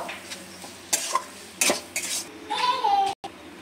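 Chopped coriander and Maggi masala being mixed into a fish finger filling, with close spoon scrapes and clinks against a metal pan in uneven bursts.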